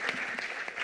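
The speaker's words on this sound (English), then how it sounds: "spontaneous applause" Applause breaks out spontaneously from an audience at an opening event, a brief, fairly faint patter of clapping.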